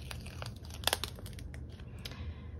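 A paper sticker peeled from its backing sheet for a planner, heard as close, soft crinkling and crackling paper sounds with a brief sharper tearing flick in the middle.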